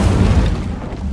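An Incendio fire spell cast in Hogwarts Legacy, heard as a loud, low booming whoosh that rumbles steadily for about a second and tapers slightly at the end.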